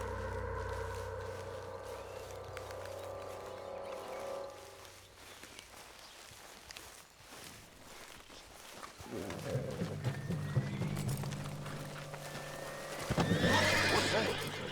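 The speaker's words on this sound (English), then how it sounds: "What's wrong with this horse?" A horse in the Red Dead Redemption 2 video game whinnies loudly, then its hooves clip-clop over a stretch of fainter background noise, followed by a second, louder burst of neighing and commotion near the end.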